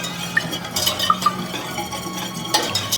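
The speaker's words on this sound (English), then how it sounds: "the lemon zest of 1 large lemon, 4 large egg yolks, a generous pinch of kosher salt. Okay, I'm just going to give this a really good mix." A whisk or spoon stirs lemon zest, egg yolks and kosher salt in a bowl. Light scraping runs throughout, with soft clinks against the sides, all close and fairly quiet.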